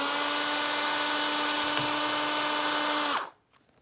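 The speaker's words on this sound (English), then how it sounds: "and drill that through just the top surface of the pipe." A power drill whines steadily and close up while its bit bores through the top surface of a PVC pipe held in a vise, then spins down and stops abruptly.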